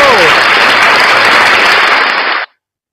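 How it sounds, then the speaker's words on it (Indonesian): A crowd applauds Pak Jenderal, loud dense clapping and cheering with a whistle at the start, sustained for over two seconds before cutting off abruptly. "Kasih aplaus dulu buat Pak Jenderal."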